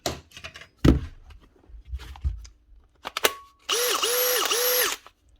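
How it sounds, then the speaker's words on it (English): A Makita DHP 484 cordless drill, dirty after sitting unused for a while, runs in short bursts on a workbench during repair, giving a loud steady motor whine with shifting pitch after some handling clatter. "Next up is another drill."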